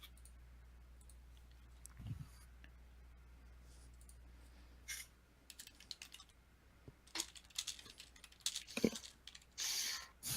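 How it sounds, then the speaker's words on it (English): Faint computer keyboard typing, with scattered soft key clicks early on and then louder irregular bursts of rapid keystrokes toward the end, heard close with no talking. "Typing things is hard."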